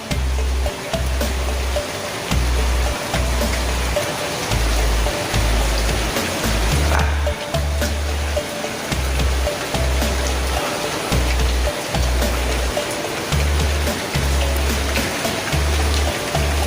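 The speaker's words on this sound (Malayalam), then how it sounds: "മുന്നിൽ തന്നെ വലിയൊരു പുഴയുണ്ട് കേട്ടോ" A large river in Wayanad rushes in a continuous broadband flow, loud and fairly close, with low rumbling surges pulsing under it and no voices.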